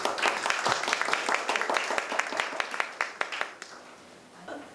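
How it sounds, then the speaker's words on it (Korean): Forum attendees clap to welcome a presenter to the podium at a Korean political discussion forum. Scattered, fairly close hand claps build briefly, then thin out and fade toward the end. "여러분 장하나 대표님 큰 박수로 발제를 청해 주시기 바랍니다"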